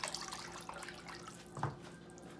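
Two cups of water pour into a pot of chicken and sausage gumbo, a soft continuous splashing trickle with one brief louder splash, quiet and close.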